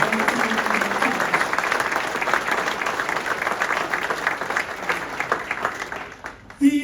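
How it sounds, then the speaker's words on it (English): Audience applause at a 2021 Hall of Fame induction ceremony: a dense, sustained wash of clapping from a large crowd that fades toward the end and gives way to a brief voice. "Let's have a round of applause again for all of our classes."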